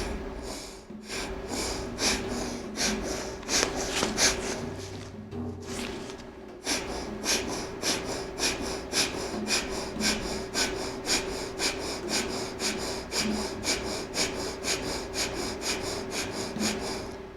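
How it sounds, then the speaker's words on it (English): Forceful yoga breathing strokes, each a rapid nasal inhale and exhale, repeat in a fast, even rhythm of rasping snorts, close and steady throughout with a brief slower stretch early on. "forceful inhale and exhale, they're known as strokes"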